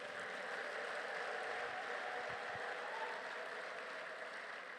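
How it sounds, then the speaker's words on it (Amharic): A church congregation claps together in a steady, continuous wash of applause that sounds faint and distant in a large room. "አጨብጭቡ ለጌታ።"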